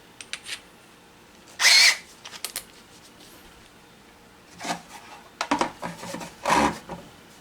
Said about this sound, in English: First things first, we need to drill a hole